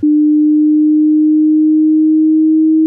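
A steady pure test tone for a frequency hearing test, one continuous low-pitched sine held loud and unchanging for about three seconds with no other sound.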